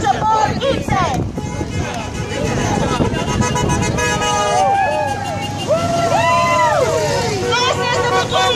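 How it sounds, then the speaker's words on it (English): Car horns honking repeatedly at a Fight for 15 protest in Des Moines, several overlapping toots and longer blasts from passing vehicles over a crowd's chanting and babble, loud and close with traffic rumble beneath. "More honks."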